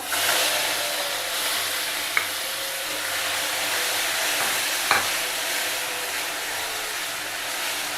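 Onion paste frying in hot oil for a crab curry gives a steady, dense sizzle and hiss, close and even throughout, broken by a couple of faint clinks of stirring, with no voices.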